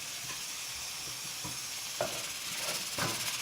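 Ginger and garlic fry with onions in a pan, giving a quiet, continuous sizzle with a few soft stirring knocks and brief spatters.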